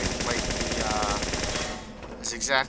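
Needle gun from the Medic class in PreFortress 2, a Team Fortress 2 predecessor, firing a rapid, continuous stream of shots for about two seconds, loud and dense, trailing off near the end.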